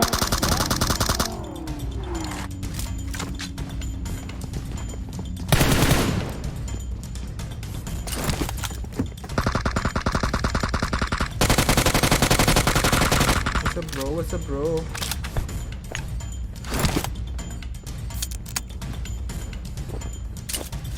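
Automatic gunfire and rapid bursts in a PUBG Mobile match, loud and repeated across the stretch, mixed with game effects and a vehicle rumble, with players talking over it.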